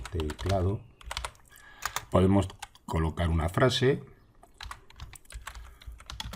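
Clicking keystrokes on a computer keyboard are heard in short bursts under a man's Spanish speech, with quieter typing continuing after the talk stops.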